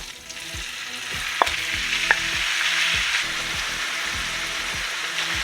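A pound of ground beef frying in about two tablespoons of olive oil, with a steady loud sizzle and repeated scraping, knocking stirs of a utensil against the pan, close and continuous with no talking.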